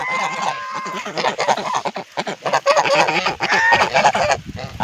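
Farmyard ducks in a guava orchard honk loudly and repeatedly, several harsh nasal calls overlapping in quick bursts close to the listener.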